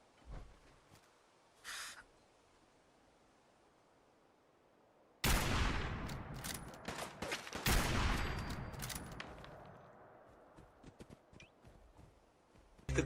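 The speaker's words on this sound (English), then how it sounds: "I'm shooting clearly through a window, but according to the game," Gunfire rings out in Fallout 4: after a quiet stretch with a couple of faint clicks, a loud burst of shots erupts, a dense run of cracks and booms that fades slowly and then breaks sharply again at the end.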